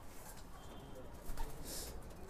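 Pigeons coo softly in a loft, faint and somewhat distant, under a steady background hiss with a few brief bird calls.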